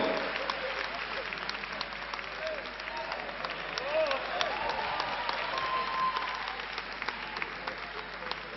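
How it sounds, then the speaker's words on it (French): An audience at a live comedy show applauds steadily and fairly loudly for about eight seconds, dense clapping with a few cheers mixed in and no clear speech over it. "on a appelé le président Daïko, qu'on applaudit très fort, s'il vous plaît"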